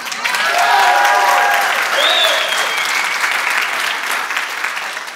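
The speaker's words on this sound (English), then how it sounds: "if you want to clap, let's do it properly." A church congregation breaks into loud, sustained clapping that swells and then slowly eases, with a few voices calling out over it.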